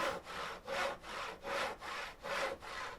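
Rhythmic back-and-forth sawing of wood logs by an automatic saw in the game Cowboy Life Simulator, steady repeated strokes about every half second, alone and fairly close.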